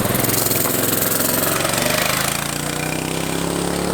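A Tillotson 212 engine swapped into a mini bike runs loud and steady up close, a rough mid-pitched buzz with a rapid firing beat that eases slightly toward the end.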